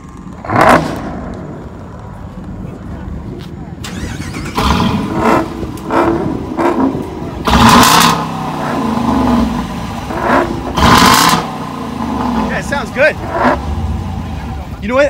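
A Mopar car with active exhaust revs repeatedly, with sharp bursts of engine roar separated by idle, close by and loud, while people talk throughout.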